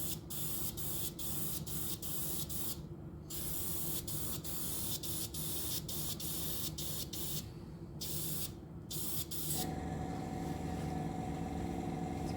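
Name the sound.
spray paint dust coat on model submarine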